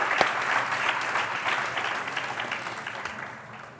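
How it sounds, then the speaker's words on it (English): An audience claps steadily, a dense wash of applause that gradually fades toward the end. "one more round of applause for doing such characters for Rani Mukerji"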